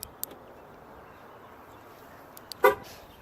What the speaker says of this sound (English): When you unlock this car, you can hear a serious clicking noise.